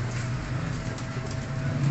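Pigeons for sale in Faisalabad coo steadily in low, soft murmurs, a continuous close-up cooing backdrop with faint background noise.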